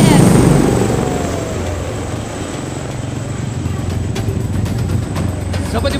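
A Dolphin AS coast guard helicopter passes overhead at a maritime show-of-force display in Langkawi, its steady rotor thrum and turbine whine loud and continuous.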